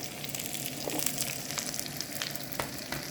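Chopped garlic, cut into large chunks, fries in a hot pan with a steady, dense sizzle and crackle, close and fairly loud, with a few sharper pops throughout.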